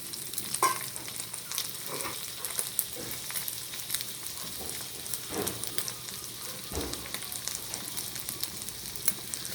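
Ham, sausage and shrimp stir-fry in a hot pan with a steady, close sizzle of frying, broken by scraping stir strokes and occasional louder crackles throughout; no talking.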